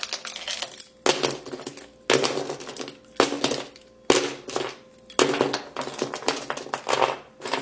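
The back of a black iPhone 7 is scratched in firm, harsh strokes, about seven rasping scrapes in a steady rhythm, close and alone.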